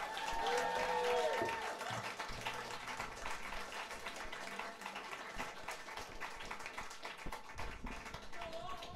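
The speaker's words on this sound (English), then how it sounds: "Let's have another round of applause for all the musicians this week" Audience at a small student music gig gives a sustained round of applause for the performers, a dense clapping wash that continues for several seconds after a brief voice at the start.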